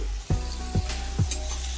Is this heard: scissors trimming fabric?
no